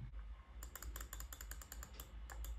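Keys on an HP laptop keyboard tapped repeatedly while scrolling through a BIOS menu, a quick run of light clicks close up over a low background hum.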